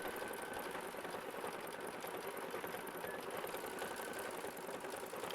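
A sewing machine runs continuously, stitching quilt blocks of half-square triangles for a butterfly quilt, with a steady, fast, even whir throughout and no talk.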